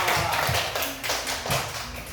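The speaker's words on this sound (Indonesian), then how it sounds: "Tepuk tangan untuk kelompok pertama" A class of students applauds the first group in a lesson on coding and computational thinking, giving a steady burst of hand clapping that lasts the whole short clip, with no voices over it.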